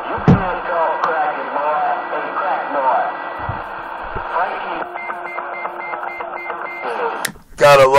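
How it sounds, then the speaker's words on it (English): Radio roger beeps from CB-style transmissions: distorted, noisy voices come through the set, and short tonal beeps mark the ends of transmissions, the loudest burst landing near the end. "Gotta love them Roger beeps"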